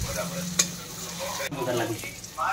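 Onion and spice masala frying with ginger and garlic in a little oil for a chicken and potato curry, a steady close sizzle with stirring scrapes and one sharp clatter.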